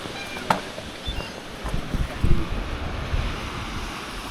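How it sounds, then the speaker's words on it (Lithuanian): Calm Baltic Sea surf washing ashore on the Lithuanian coast, a soft continuous wash of waves mixed with gusty wind noise buffeting the microphone, with a few slightly louder surges. "O žiūrėkit, kokia rami jūra."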